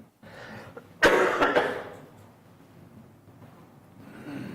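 A single harsh cough bursts out during a city council meeting, followed by rough throat sounds and breathing, close by, fading to quiet murmuring.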